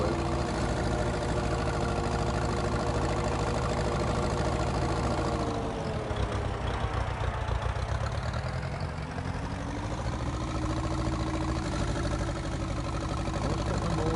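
A lawn tractor engine in Farming Simulator 2019 drones at a steady idle, a continuous mid-low hum that dips briefly in the middle before resuming, with no talking.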